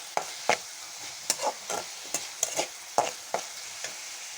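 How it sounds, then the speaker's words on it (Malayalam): Onions and spices sautéing in a pan for a jackfruit-seed mezhukkupuratti, with a steady sizzle under repeated scraping spoon strokes stirring the mixture at an uneven rhythm. "നമ്മുടെ ഉള്ളിയും സാധനങ്ങളെല്ലാം വഴണ്ട് വന്നിട്ടുണ്ട്"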